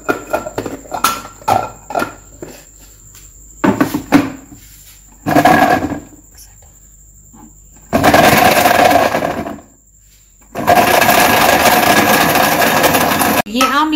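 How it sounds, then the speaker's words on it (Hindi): A kitchen blender whirs in two long, loud bursts as it blends an amla water hair remedy mixture, after a stretch of talk and clattering. "ये मिक्स करें और इसको फिर ब्लेंड करें।"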